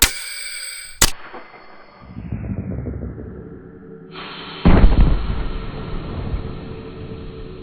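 A homemade supersonic Nerf blaster fires a dart at 590 psi: a sharp loud crack near the start, a hissing, falling rush of released air, then a second heavy bang and rumbling noise, close and loud.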